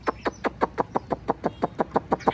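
A caged hwamei, the Chinese melodious laughingthrush, gives a fast run of about a dozen evenly spaced, bright repeated notes, close and clear with no talk.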